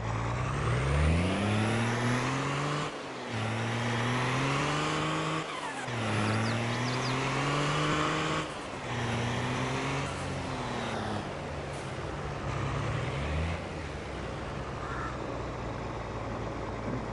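A truck drives in the Farming Simulator 22 game, its engine rising and falling through several rev swells and gear changes over a steady rumble, with no talk.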